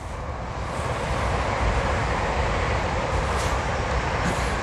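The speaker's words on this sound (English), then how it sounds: "Just let that train pass." Train passing by outdoors, a continuous rumbling roar that swells slightly and holds steady, fairly loud and broadband with no speech over it.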